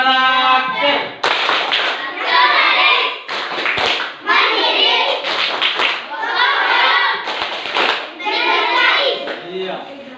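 Classroom of children performing a rhythmic character clapping routine, bursts of hand claps in a patterned beat mixed with chanting and speech from the class, close and loud throughout.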